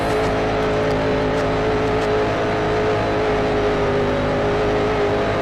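Racing engines in Grand Prix Legends, a 1955-mod Grand Prix race, drone with a steady high whine as one car overtakes a slower one at about 100 mph, loud and continuous throughout without any talk.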